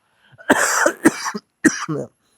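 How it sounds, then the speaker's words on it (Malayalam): An adult coughs several times in quick, close bursts, loud and near, with brief gaps between them in an otherwise quiet indoor room. "ചുമ മാറിയിട്ടില്ല."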